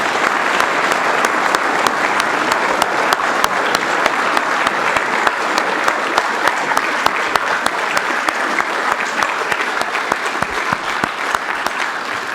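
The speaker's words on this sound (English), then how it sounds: "Can you just give him one more round of applause" Sustained applause from an audience at a lecture event, dense steady clapping from many hands throughout, close and even in loudness.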